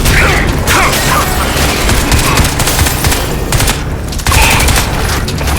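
Dense combat gunfire from the shooter game Crysis: loud overlapping bursts and rattling volleys run continuously at close range, with brief gaps between clusters.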